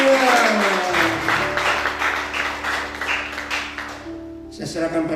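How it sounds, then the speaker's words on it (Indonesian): Church congregation clapping at a Pentecost Sunday worship service, a steady wash of hands over sustained organ-like musical tones, thinning toward the end. "Tepuk tangan buat diri sendiri."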